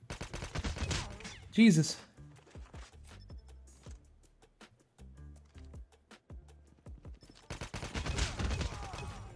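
Gunfire in the mobile shooter COD Mobile, with rapid bursts of automatic fire at the start and again near the end and scattered single shots between, mixed with game effects and a brief spoken exclamation.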